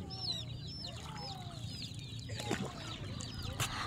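Roosters cluck at a cockfighting arena, with several short calls rising and falling over an outdoor background, a few louder clucks near the end, and some faint chatter in the mix.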